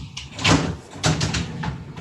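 Wooden drawers are pulled open and pushed shut in a room, giving a few loud sliding thumps and knocks close by, with quieter rattles between them.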